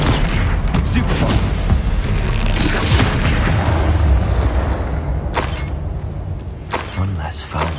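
A Stupefy stun spell strikes in Hogwarts Legacy, giving a loud, booming, shattering impact inside dense layered combat noise that runs for several seconds and then thins out, with a few sharp bursts near the end.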